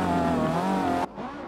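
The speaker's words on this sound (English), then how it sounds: "A little bit of hard braking right there." A race car in Forza Motorsport 7 brakes hard at the Hockenheimring hairpin, its loud engine note dropping abruptly partway through.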